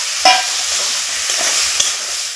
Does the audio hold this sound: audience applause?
no